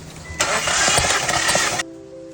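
A 2019 Jeep Wrangler engine cranking with its starter, one loud sustained burst of roughly a second and a half that cuts off abruptly, leaving a faint hum.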